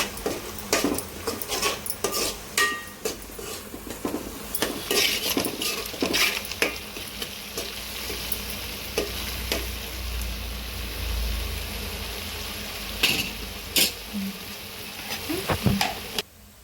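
A spoon scrapes and stirs fish curry with chili powder in a pan, metallic clinks and knocks over a steady sizzle of frying, close by, with a little talk in the background.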